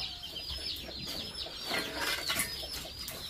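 Chickens clucking nearby in a rural Vietnamese setting, a steady busy chatter of several birds with bursts of louder calls and background noise, no talk.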